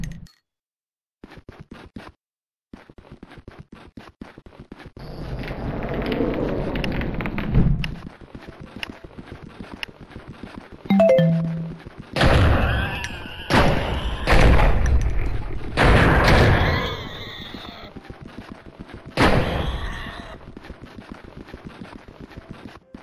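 Weapons loaded with explosive ammo in Blood and Bacon fire in long, rapid volleys with booming blasts. The shooting starts after a quiet opening and hits loud, dense bursts midway through.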